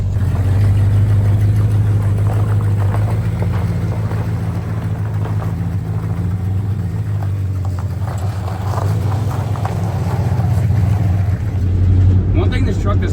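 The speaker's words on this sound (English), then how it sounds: "It's idling nice." A 1978 Dodge truck engine idles with a steady low rumble, close and constant throughout, with faint clicking noises over it.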